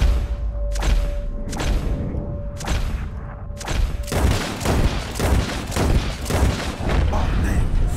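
Repeated gunshots fired at flying birds, booming shots at a steady rhythm of roughly one every second, loud and close, growing denser and overlapping toward the end, with voices shouting among them.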